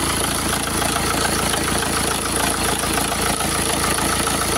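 A 2008 BMW 3 Series E90 318d with a 2.0-litre 143 hp diesel engine idles with the bonnet open. The drone is steady and close, a dense continuous rumble with a faint ticking texture and no speech.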